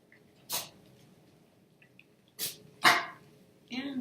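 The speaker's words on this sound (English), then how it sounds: "And my dog is driving me crazy." A pet dog indoors gives a handful of short, separate barks spread over a few seconds, moderately loud against a quiet room, with no talking.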